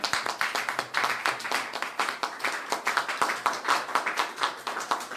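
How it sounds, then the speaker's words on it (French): A church audience claps together in praise of God, a brisk run of many hand claps at fairly even rhythm, heard without speech. "Können wir für ihn applaudieren?"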